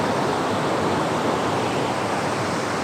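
Kudengrim waterfall roars as a steady, dense rush of falling water, loud and close, with no voices over it.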